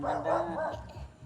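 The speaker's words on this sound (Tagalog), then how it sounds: "Yan ang aso mo." A dog gives a short, gruff bark that trails into a brief yip or whimper, heard close and alone during a road trip.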